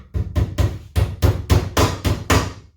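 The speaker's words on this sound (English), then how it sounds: "just nailing opposite sides, and then I'm going to do the 2 internal ones." A hammer nails a timber runner onto a National beehive brood or super box, ten sharp, evenly spaced blows in quick succession, close and loud with no talk.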